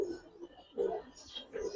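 Giribaz pigeons coo in a few soft, low bursts close by, each swelling and fading in an uneven rhythm with brief quiet between.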